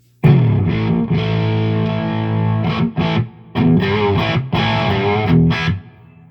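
Electric guitar played through a Dr. J Lancelot distortion pedal, with thick, saturated chords that ring out, then a few choppy restrikes and held notes, loud and close with no talking.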